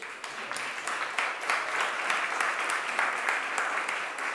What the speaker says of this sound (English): can you give a round of applause to our musicians who are here?